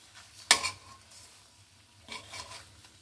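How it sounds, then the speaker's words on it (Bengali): A metal utensil scrapes and stirs egg bhuna in a pan, with one sharp clatter and a later cluster of scraping strokes over a faint, steady sizzle. "ডিম ভুনা করছি।"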